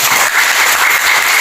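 Classroom applause from students after a correct answer, a steady dense patter of clapping filling the whole moment at a fairly loud, even level with no talk over it.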